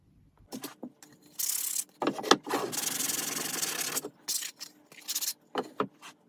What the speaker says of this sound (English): Time for a very quick and light sanding.